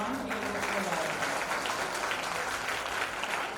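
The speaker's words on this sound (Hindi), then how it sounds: "ये अपने लिए कितनी सुंदर ताली बजाई आप।" Devotees at a Bhagavat katha gathering clap together in a steady, moderately distant wash of applause, with a voice faintly present beneath the clapping.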